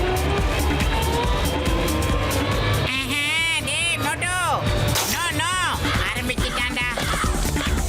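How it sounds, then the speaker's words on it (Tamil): A cartoon car's engine revs up and the car drives off, a steady motor drone rising and falling in pitch under continuous cartoon voices and music. "இன்ஜின் ஸ்டார்ட், போடு கியர்."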